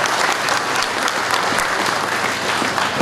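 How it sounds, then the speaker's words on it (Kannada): Audience applause at a village religious festival, a loud, continuous crowd of hands clapping densely with no pauses. "ದಯವಿಟ್ಟು ನೀವು ಒಂದು ಚಪ್ಪಾಳೆ ಇನ್ನೊಂದಿಸಿ."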